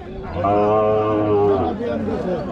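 A cow lets out one long, loud mooing call up close at a cattle market in Rajshahi, trailing off into a lower grunt, with a busy background murmur.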